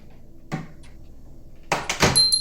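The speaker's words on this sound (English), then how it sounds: "The sudden sound of the front door opening gave pause to the moment." A front door opens with a brief knock or click, followed a moment later by a louder burst of rattling and creaking, close by and with no talk.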